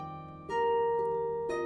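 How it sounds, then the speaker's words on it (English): A brief musical rendering of the COVID-19 virus spike protein, soft sustained tones with a gentle struck note entering about a third of the way in and another near the end, faint and alone. "What you hear is a musical representation of the virus spike protein"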